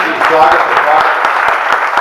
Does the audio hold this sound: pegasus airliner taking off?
no